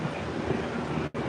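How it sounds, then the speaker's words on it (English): Wind buffets the microphone on an upper concourse of an NFL stadium as a steady, broad roar, with a brief dropout near the end. "I know it's a little bit windy"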